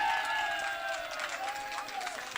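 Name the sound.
audience applause and cheering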